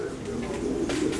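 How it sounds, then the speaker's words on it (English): Pigeons coo softly in a short burst at a pet shop in Clewiston, Florida, low murmuring calls over steady ambient outdoor noise. "You can hear the pigeons."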